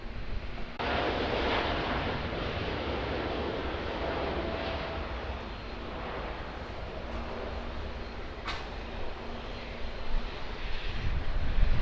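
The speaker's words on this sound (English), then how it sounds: "United Boeing 787-9 currently sitting on the runway." A United Boeing 787-9 bound for San Francisco takes off at Auckland Airport, a loud, broad engine roar that holds steady and swells toward the end, heard from a distance with some wind buffeting.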